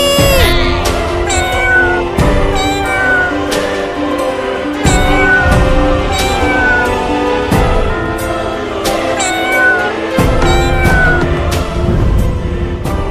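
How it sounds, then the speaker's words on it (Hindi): Several cats meow repeatedly, overlapping high cries and drawn-out yowls, loud and close, set against busy animated music. "सामने से बिल्ली और बिल्ली के बच्चे आ रहे हैं"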